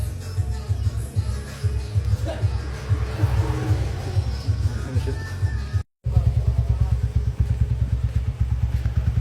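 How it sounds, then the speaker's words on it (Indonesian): A Honda Tiger motorcycle engine idles steadily at night during a one-day overhaul in a workshop, its rapid even thumping loud and close throughout, with a brief dropout midway. "lanjut mesin yang kepunyaan mesin motor Mas Adi yang dari Jember ini ya"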